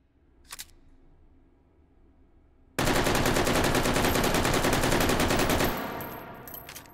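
An L85 rifle empties a full magazine in the VR shooter Hot Dogs, Horseshoes & Hand Grenades, a loud, sustained rapid-fire burst of about three seconds, followed by a few faint mechanical clicks.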